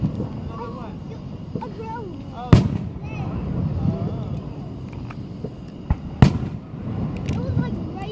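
Fourth of July fireworks go off outdoors as two sharp, loud bangs a few seconds apart, set against steady rumbling background noise with voices murmuring throughout.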